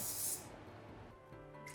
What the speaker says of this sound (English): And we'll just spray that right at the root.